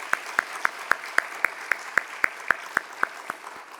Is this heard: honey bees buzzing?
no